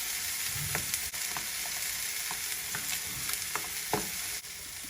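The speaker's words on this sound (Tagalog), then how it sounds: "Magsasalang po ako ng mantika at gulay." Mixed vegetables fry in oil in a pan with a dense, even sizzle. Light taps and scrapes of a spatula recur throughout, close up and with no voices.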